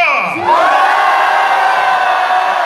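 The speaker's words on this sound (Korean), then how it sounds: "자, 5초간 함성 시작!" Concert audience at an outdoor temple music event shouting and cheering together, a loud sustained roar of voices that swells after a brief opening cry and holds steady.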